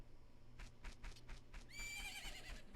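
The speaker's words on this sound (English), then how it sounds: "Isn't that your horse?" A horse in the video game Majora's Mask trots with a run of clip-clop hoofbeats, then lets out a bright, wavering whinny. The sounds are close and clear, with no voices over them.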